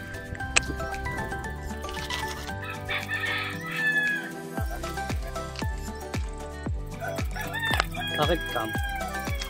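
A rooster crows loudly amid steady clucking from several chickens, with rhythmic thumping noises and scattered bird calls in the background, on a rural trail in Rodriguez, Rizal.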